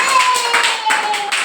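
A children's class claps hands together in quick rhythmic bursts, loud and close, with a teacher's voice speaking over the claps.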